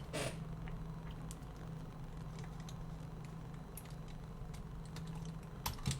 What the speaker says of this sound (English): I heard some rotation, some clicking, some click noises.